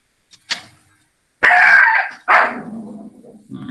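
A dog barks a few times up close, sharp yips followed by two louder, longer barks with a growly edge, and no talking.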